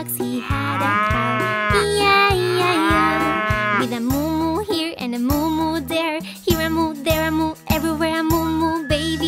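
Repeated cow moos sung within a bouncy children's nursery rhyme about a farm, layered over a steady musical backing with a jingling beat.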